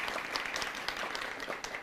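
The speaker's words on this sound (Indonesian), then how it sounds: "tepuk tangan untuk kita semua" Faint, distant applause from a gathering before a virtual Wayang Cenkblong shadow-puppet show, a short steady patter of clapping at low volume.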